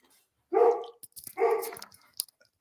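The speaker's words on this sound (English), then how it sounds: "And who are you barking at?" A dog barks indoors, giving two loud, close barks about a second apart, followed by a few faint, brief yips and sounds.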